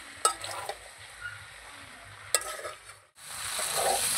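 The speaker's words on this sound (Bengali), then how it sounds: "এবারে কষাবো, সব ঝাল টাল ঢুকে যাবে।" Chili and potatoes are stir-fried in a pan, a soft sizzle running under occasional sharp scrapes of the spatula, then a louder burst of frying near the end.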